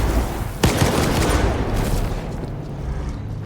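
A burst of gunfire in the video game S.T.A.L.K.E.R. 2: Heart of Chornobyl, with a sharp loud shot followed by a rapid rattling volley that fades into a lingering rumble.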